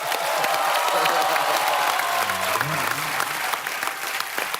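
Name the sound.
applause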